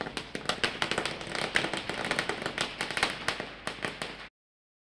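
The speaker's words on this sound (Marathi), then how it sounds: "शुभ आगमन फटाक्याची आतिषबाजी पाहू शकाल" A long string of firecrackers and fireworks crackles off at a cricket tournament welcome, with rapid, loud irregular bursts and pops that continue without pause before cutting off abruptly.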